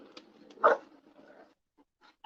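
A pet dog gives a short, soft whimper up close in a quiet home, followed by a brief sharper yelp at the end, with faint rustling in between.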